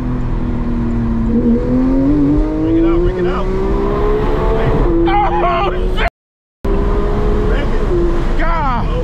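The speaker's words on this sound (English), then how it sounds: "This is all motor." A Porsche 911 GT3 engine revs hard and rises in pitch through the gears, loud and close from inside the cabin, with excited voices talking over it.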